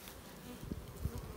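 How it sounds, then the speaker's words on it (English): A close, low buzzing hum of honeybees in flight around hive boxes drones steadily, with a few louder passes as insects move near. "Bees are up in flight."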